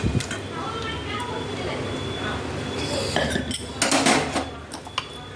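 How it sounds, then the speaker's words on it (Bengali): Cooked jackfruit and potato curry being poured from a pot into a serving dish, with scraping and clinking of a spoon and metal cookware through the clip and a cluster of louder clanks near the end. "এঁচোড়ের দম এই যে ঢেলে ফেললাম"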